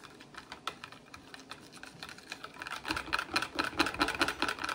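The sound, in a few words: Whisking cold process soap batter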